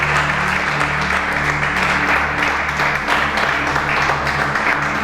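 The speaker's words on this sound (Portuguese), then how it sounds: "Vamos aplaudir o nosso Deus bem forte." A church congregation applauds steadily and loudly throughout, a dense wash of clapping with a low background hum underneath.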